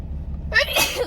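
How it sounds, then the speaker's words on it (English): A single close, sudden sneeze bursts out after a moment of quiet, sharp and breathy, with nothing else going on. "I have to sneeze again."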